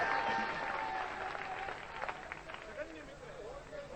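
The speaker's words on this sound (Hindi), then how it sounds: "जोरदार तालियां बजाए" Audience applause at a Hindi poetry recital, a fairly loud burst of clapping that gradually thins, with some background voices and babble in the hall.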